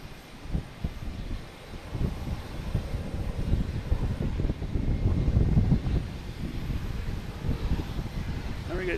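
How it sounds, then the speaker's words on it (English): JetBlue Embraer E190 jet taking off at Boston Logan Airport, a broad rumbling engine roar that swells and holds steady with wind buffeting the microphone, while a voice talks over it. "JetBlue taking off here, heading to Detroit, E190."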